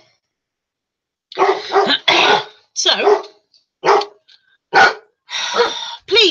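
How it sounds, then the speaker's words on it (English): Several dogs bark in loud, repeated bursts close by, with short gaps between the barks and a brief spoken word near the start. "the dogs are off again."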